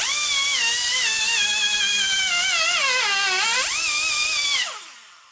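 A power tool cutting a round weld-on tube for a 1950 Panhead cylinder head, a loud steady high whine with its pitch sagging and rising under load before it spins down and stops.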